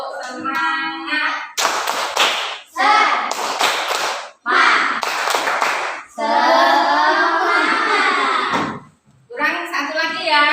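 In a classroom, children play the 'tepuk semangat' clap game, clapping in three brisk rhythmic bursts as they chant together, with a teacher talking between the rounds.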